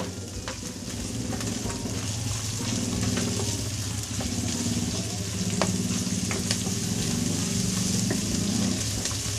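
Garlic and onion frying in a pan for a Filipino ginisang sigarilyas (winged bean) dish, a steady close sizzle running throughout with occasional stirring scrapes and clinks, no talking.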